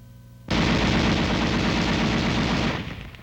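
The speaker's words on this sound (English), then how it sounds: "The gun continues to fire as long as the trigger is depressed." An M73 7.62mm tank machine gun fires one continuous, sustained burst, loud and close, starting abruptly and cutting off after a little over two seconds with a short fading tail.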